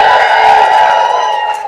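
A comedy-show audience of women cheers for International Women's Day, a loud sustained wash of whoops and shouting that swells briefly and then begins to fade.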